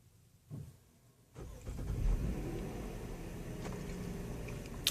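A Chevy Traverse engine starting remotely with no one aboard: a short crank and catch, then a steady mid-pitched idle that holds close and constant to the end, with no voices over it.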